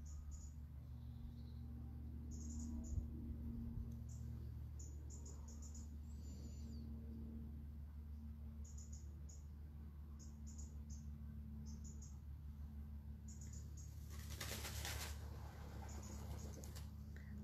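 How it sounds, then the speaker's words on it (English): Birdsong during a morning prayer, with repeated high, bright chirps and short trills scattered throughout over a steady low background hum, fairly faint and with no talking. "Just a moment with the birdsong."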